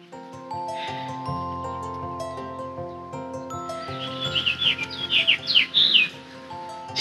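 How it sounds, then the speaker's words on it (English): House finch song outdoors beside a house, a series of quick bright chirps and warbling trills that rise over sustained background music in the second half. "Did you hear that pretty bird song?"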